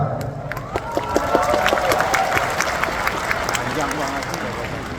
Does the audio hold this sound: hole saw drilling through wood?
no